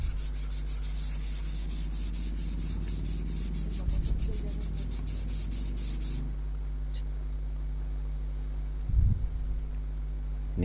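Sandpaper rubbing over a wooden piece during Duco-style wood finishing, a steady close scratchy back-and-forth that runs for about six seconds and then stops, leaving quiet room tone with a couple of small knocks.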